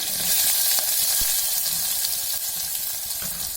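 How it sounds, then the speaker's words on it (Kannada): Mustard seeds, garlic, onion and curry leaves fry in hot oil, giving a close, continuous sizzle broken by small pops and spatula stirs. "ಕರಿಬೇವಿನ ಸೊಪ್ಪು ಎಲ್ಲ ಚೆನ್ನಾಗಿ ಫ್ರೈ ಆಗಬೇಕು"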